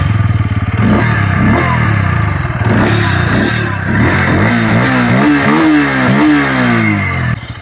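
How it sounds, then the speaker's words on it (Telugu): A Bajaj Pulsar N150 motorcycle engine fires up and settles into a steady idle, with a few rising and falling throttle blips toward the end; loud and close throughout, no voices. "సో ఇంజన్ స్టార్ట్ చేద్దాం. స్టార్ట్ చేసి ఒకసారి ఇంజన్ యొక్క బీట్ అయితే విందాం."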